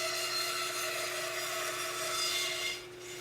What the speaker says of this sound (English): This is the side profile being cut out on the bandsaw.